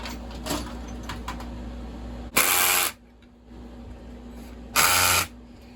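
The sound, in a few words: screw gun snugging up chainsaw bumper spikes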